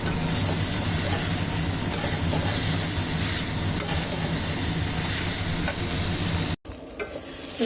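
A spice paste for an elephant foot yam and prawn curry sizzles and crackles loudly in a hot pan as it is stirred, before the sound cuts off abruptly near the end.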